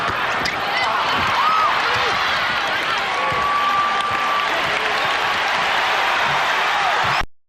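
An arena crowd at a 1991 Bulls vs Pistons Eastern Conference Finals game in Detroit roars and claps in a loud, continuous wash, with faint sneaker squeaks and a commentator talking over it.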